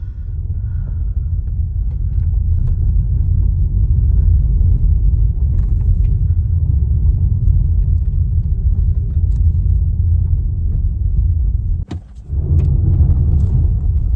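Polestar 2 front-wheel-drive electric rental car heading down the road, a steady low road rumble and tyre noise throughout, with a brief dip near the end, no talking.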